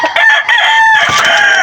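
A rooster crows at a chicken farm, one loud, close call held for well over a second with no other sounds around it.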